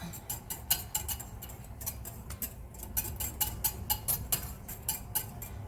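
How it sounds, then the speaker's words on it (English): Quick, rhythmic metallic ticks of a whisk scraping against a pot of boiling vegan broth, repeated steadily over a low simmering background. "Just gonna whisk it."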